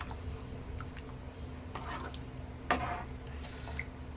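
A spoon stirring spinach sambar in a pot right after lentils are added, soft scraping and a faint simmering bubble with one sharper clink of the utensil against the pan, close and quiet.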